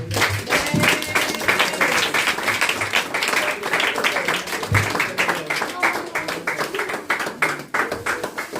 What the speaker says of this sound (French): Nous acclamons pour la gloire.